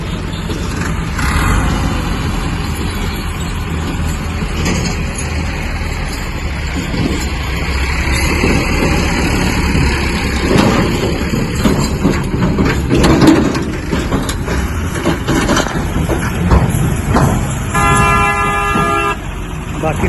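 Tractors idle beside Mangla Dam while waiting their turn to load sand, a steady low engine rumble running throughout with passing vehicle horns and brief toots over it.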